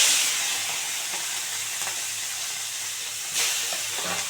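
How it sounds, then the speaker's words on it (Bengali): Prawns coated in salt and turmeric frying in hot white oil, a strong steady hissing sizzle with soft stirring scrapes and a brief louder flare partway through, no voices. "চিংড়ি মাছটাকে আগে ভালো করে ভেজে নেব বন্ধুরা"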